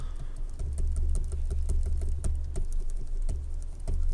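Rapid, steady clicking of keys on a computer keyboard, close and continuous over a low hum, as a keyboard shortcut is pressed during editing work.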